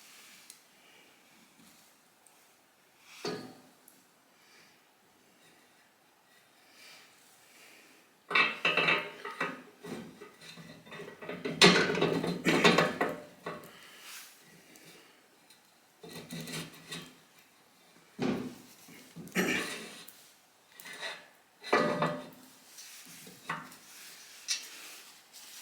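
Metal parts clank and rub as the swing arm is refitted on a 1978 Kawasaki KZ1000 Z1R during restoration: scattered close knocks and scrapes, quiet at first and then denser, louder bursts in the second half, with no talking.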